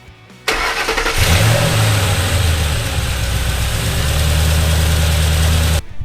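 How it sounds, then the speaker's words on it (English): A 2006 Ford Mustang GT cranks briefly, then its V8 catches and settles into a loud, deep, steady idle, close by and with no voices, before cutting off abruptly. "We're gonna fire this bad devil up, and hopefully everything goes according to plan."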